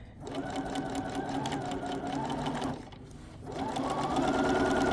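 Sewing machine running steadily while stitching a pant hem, a continuous close mechanical whir that briefly pauses near the three-second mark for a reverse stitch, then resumes slightly louder.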